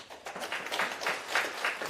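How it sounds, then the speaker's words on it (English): An audience at a technology conference's opening session applauds the event sponsors: a steady wash of many hands clapping at moderate distance, rising and falling slightly over the brief stretch. "Clap for everyone."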